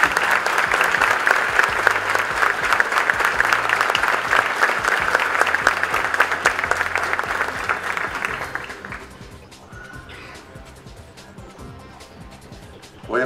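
A crowd at an outdoor civic ceremony for the signing of a street paving project claps vigorously for several seconds, then the applause fades out and leaves a quiet, hollow room sound.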